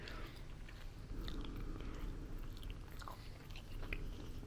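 Soft wet chewing and licking noises from a cat, close up and continuous, over a low rumbling background.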